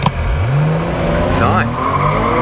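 A 600whp BMW with an N54 engine and DCT gearbox launches in a drag race, its loud engine note climbing through the revs while tires squeal briefly, close and intense, with voices faintly mixed in.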